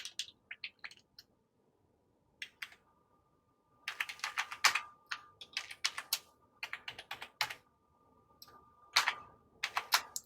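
Fingers tap out a password on a computer keyboard, quiet close clicks in short bursts separated by pauses, with a faint steady hum beneath.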